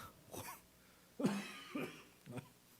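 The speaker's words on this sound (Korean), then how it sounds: "저 기침하지 말라고 기도 좀 해주십시오" A man in a church sermon coughs several times, short harsh bursts spaced apart and fairly close, in a quiet room with no speech.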